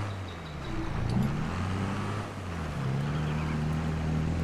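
A tractor engine in a farming video game drones steadily at low pitch, stuck in first gear and labouring, with a constant rumbling hum and slight shifts in pitch, no talk over it.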